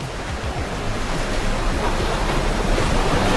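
Immersive sea waves roll and wash steadily in a continuous broadband surf roar, close and moderately loud, with a windy rush over the water and no voices.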